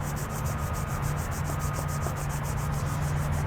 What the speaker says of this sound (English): Open up the fingers and rub in between the fingers.